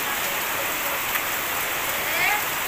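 Rain falls steadily on a tin roof in a village, a dense, even hiss of drops that holds at a constant level throughout with no voices.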